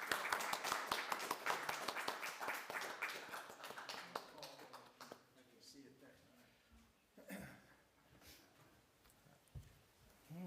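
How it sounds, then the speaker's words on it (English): An audience breaks into applause, a fast rattle of clapping that starts strong and gradually fades out over several seconds, followed by quieter room noise. "let's all give him a warm round of applause"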